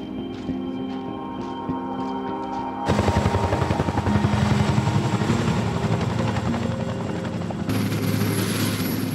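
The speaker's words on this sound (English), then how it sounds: "Most stuff arrives by choppers, which seem to appear suddenly out of nowhere." A military helicopter arriving at a remote base in Helmand, Afghanistan, its rotor chop swelling suddenly into a loud, steady, close thrum that fills the scene without any talk.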